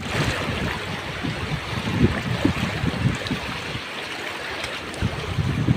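A river crossing near Sitio Kawayan rushes and splashes steadily, a loud, close wash of flowing water with churning surges throughout.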